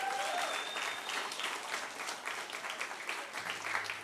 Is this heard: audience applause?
yes